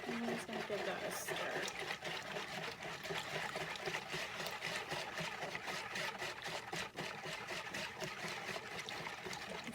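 A whisk stirs mustard and sugar in a bowl for potato salad, producing a fast, continuous rhythmic scraping that stays close and fairly loud throughout.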